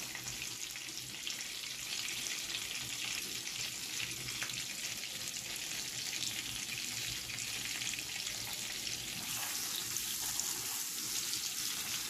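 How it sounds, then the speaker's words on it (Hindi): Constant crackling sizzle of chopped garlic frying in butter and oil in a pan, even and unbroken, with faint stirring noises and no voices. "अब चौप लहसुन डाल देंगे साथ ही"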